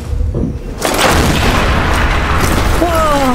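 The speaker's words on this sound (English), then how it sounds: "Big explosion. It is a big, big explosion." A big explosion in the video game Amnesia: The Bunker bursts in loud and sudden after a short quieter stretch, then rumbles on heavily to the end, with a faint rising tone near the close.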